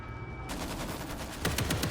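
Rapid bursts of gunfire from the zombie shooter game World War Z, a steady rattle of shots that grows louder and denser near the end.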